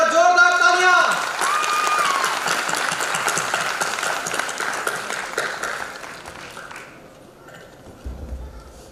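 An audience at a 75th anniversary celebration breaks into loud clapping right after a brief voice, the applause holding for several seconds before thinning out and fading.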